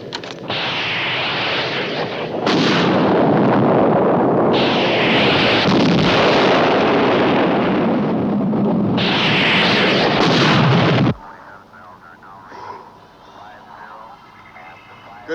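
Sci-fi television base defense attack with weapons firing and explosions, a dense, loud roar of blasts and bursts for about eleven seconds that cuts off abruptly, leaving a quieter hum with faint voices.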